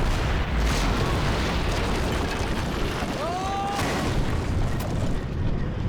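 A helicopter blows up in the Max Payne 3 video game, a dense broadband explosive roar sustained across the clip with a brief whistling tone partway through, loud and continuous.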